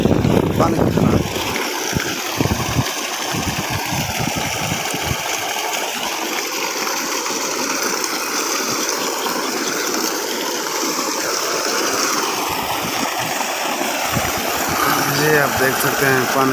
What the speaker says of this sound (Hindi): बहुत प्रेशर के साथ पानी आ रहा है।